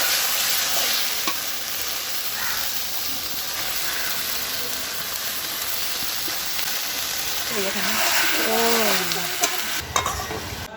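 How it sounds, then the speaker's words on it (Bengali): Chicken pieces hitting hot oil and fried spice masala in a pan on a clay stove, producing a loud, steady sizzle and hiss close up throughout, with a brief voice near the end. "এবার আমি মাংসটা দিয়ে দিচ্ছি।"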